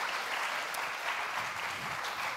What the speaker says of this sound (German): Applaus für Hans und Kathi.